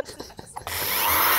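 Power drill boring through a wooden cutting board into a table: a few faint scrapes and clicks, then the drill kicks in with a loud, steady, rising whir that runs to the end.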